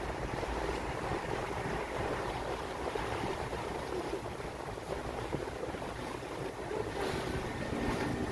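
Continuous wash of water and wind noise from a narrowboat moving on a river, steady and fairly loud throughout with no voices.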